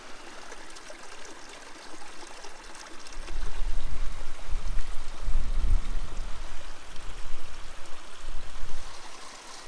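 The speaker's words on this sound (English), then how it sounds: "Crystal clear water flowing all over these little waterfalls everywhere." Crystal clear water pouring over small rocky waterfalls at springs in a remote Australian stream, a steady close rush with a fuller, louder surge of flow midway.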